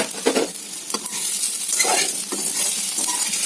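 Coconut oil frying hard over a high flame gives a steady, loud sizzle, crackling and spitting close by, with scraping and stirring strokes over it and no voices.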